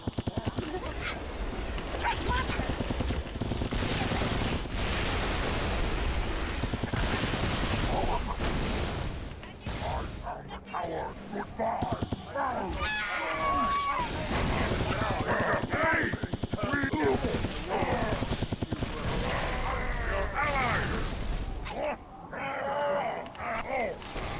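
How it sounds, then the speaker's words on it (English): Gunfire from a sniper rifle in Halo 3 shooting four-round bursts, a loud, dense game soundtrack of repeated shots and explosions, with voices talking over the action throughout. "Non, c'est un sniper qui tire 4 balles d'un coup"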